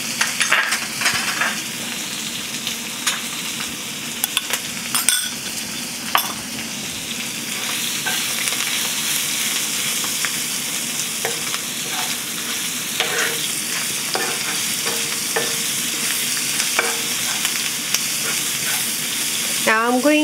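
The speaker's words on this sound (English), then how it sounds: "Now I'm going to fry this onion until it's nice and soft." Chopped onion and curry leaves frying in hot oil, a steady loud sizzle with frequent scraping stirs and light clicks of a spoon against the pan throughout.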